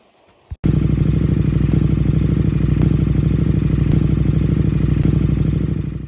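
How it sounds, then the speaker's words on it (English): A running engine with its piston moving up and down starts abruptly after a brief quiet moment, then holds a loud, steady, close mechanical drone with a rapid clattering pulse until the end. "This is what happens to the piston when the engine is powered on."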